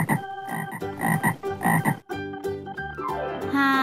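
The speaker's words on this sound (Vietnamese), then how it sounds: "Con ếch." A frog croaks in a rapid run of loud, close, raspy pulses, alone with no talk.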